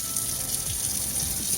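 Water runs steadily from a kitchen tap during dishwashing, a constant close gushing stream with no talk.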